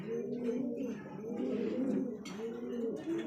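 Pigeons cooing in soft, repeated throaty phrases, close by at a pigeon seller's, with a faint bit of background noise.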